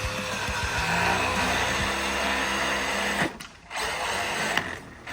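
An RC monster truck drives in bursts, its small electric motor whining and buzzing steadily, cutting out briefly twice before revving up again, close and loud.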